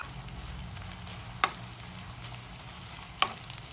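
Garlic, chillies, green chillies, dried tomato and curry leaves fry in hot oil for a dry tomato pickle, giving a steady low sizzle with two sharp clinks of a spoon stirring the pan.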